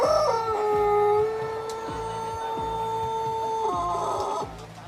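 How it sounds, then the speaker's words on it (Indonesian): A Pelung rooster gives a long, drawn-out crow over a steady low rhythmic pulsing, with faint clucking of other chickens in the background. "Si pelung dipancing suaranya pakai kelepekan ayam lain dari luar kandang."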